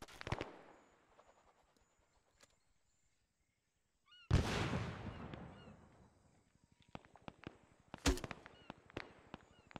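A frag grenade in Arma 3 goes off midway as a single heavy blast with a long rumbling decay. Sharp gunshots crack before it, and rapid rifle fire in a wooded position follows it.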